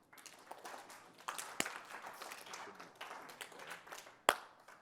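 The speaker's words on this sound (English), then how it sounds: "let's give him an awkward clap and get him started" An audience breaks into a brief, scattered round of clapping, soft individual claps spread unevenly across a few seconds, with a couple of sharper louder claps standing out near the start and end.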